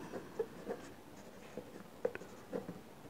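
Pen writing by hand on paper while working a physics problem: soft, quiet scratching strokes with small taps at irregular intervals, close and faint, with no talk.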